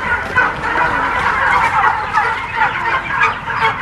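Several turkeys gobble in a barn, their rapid, warbling calls overlapping continuously at close range with no talking.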